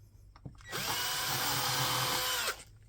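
A power drill whirs steadily for about two seconds, starting a screw for a hook, loud and close with an abrupt spin-up and stop, preceded by a faint click and no talk.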